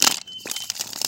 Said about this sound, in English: Enough shuffling.